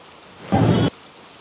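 Heavy monsoon rain falls in Raigad district, Maharashtra, heard as a short, loud burst of dense rushing hiss rising out of quieter background noise.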